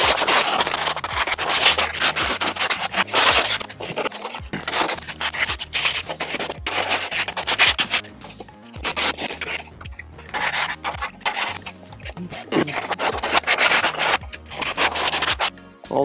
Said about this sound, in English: what we do now is grab a sandpaper, which is, I'd use 120 grit